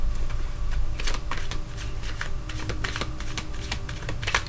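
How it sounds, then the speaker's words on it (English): Tarot cards are shuffled in quick, crisp riffles and slides, a steady run of papery flicks close by with no voices. "All right, just let me shuffle a little bit."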